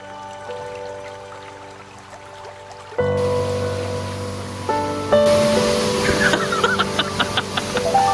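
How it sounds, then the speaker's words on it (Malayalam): Anakulam waterfall near Amboori village rushes in a steady broadband roar that grows louder in stages as the recordist moves closer, with no talk over it. "ഇതാണ് ആനക്കുളം വാട്ടർഫാൾ."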